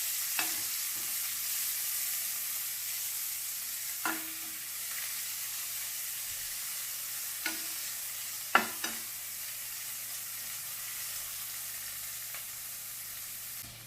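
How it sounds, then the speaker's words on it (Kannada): Onions frying in a pan for peas pulao, a steady soft sizzle running throughout with a few sharp clicks of stirring, close and moderately quiet, no voices. "ಈರುಳ್ಳಿ ಸ್ವಲ್ಪ ಫ್ರೈ ಆಗಲಿ"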